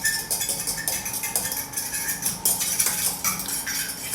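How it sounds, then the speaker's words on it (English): Eggs for lemon bars whisked in a bowl, giving a steady fast scraping and clinking of utensil against the bowl, close and continuous with no talk. "Okay, and we're gonna mix that up."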